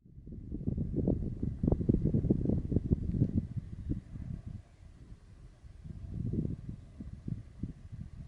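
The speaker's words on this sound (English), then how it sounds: "It's just a light breeze coming through." A light winter breeze blowing uphill past a hillside campsite comes through as low, rumbling gusts buffeting the microphone, swelling and easing in uneven waves with quiet stretches between.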